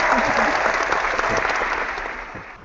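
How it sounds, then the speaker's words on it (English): Audience applause at an HR happy hour gathering, a sustained round of clapping from a room of people that stays steady and then gradually fades toward the end. "Let's give a round of applause for Norm."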